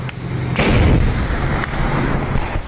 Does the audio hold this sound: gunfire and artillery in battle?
yes